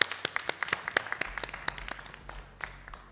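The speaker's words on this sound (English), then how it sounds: "Let's give her a round of applause" Audience applause for a panelist at an ADR conference, a modest scattering of distinct hand claps, fairly faint and thinning out over three seconds.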